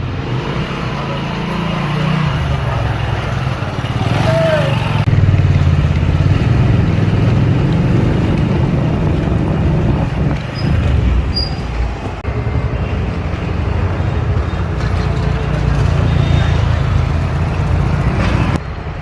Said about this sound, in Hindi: तो हम अपनी बाइक के साथ निकलते हैं